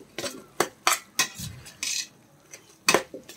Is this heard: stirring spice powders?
yes